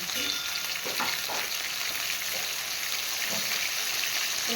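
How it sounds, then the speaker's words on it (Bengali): Cumin seeds and a bay leaf sizzle in hot oil, a loud, continuous crackling fry with some stirring mixed in throughout. "জিরে দিলাম দিয়ে তেজপাতা দিচ্ছি"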